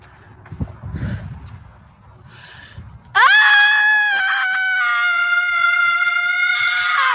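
A woman lets out one long, loud, piercing scream that holds steady for several seconds, following a few moments of quieter muffled sounds.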